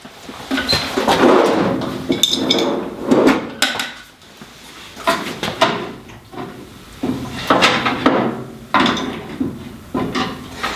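Plasma cutter torch fitting being snugged up with pliers or a crescent wrench on a Yeswelder Cut-55DS: a series of close clunks, scrapes and knocks in irregular bursts, fairly loud, no talk.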